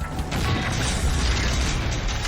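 A fuel tanker truck erupts in a loud, sustained roar of blast and rumble, dense broadband noise filling the whole stretch without a break and without voices.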